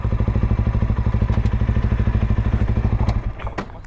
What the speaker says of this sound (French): C'est la Honda, ça. Ouais, 125.